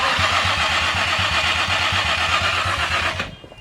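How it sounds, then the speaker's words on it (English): Rebuilt Nissan VQ35DE engine cranking with the ECU unplugged, a loud, even rhythmic starter whirr running steadily for about three seconds before cutting off, close by and with no firing. "I just want to see if it cranks."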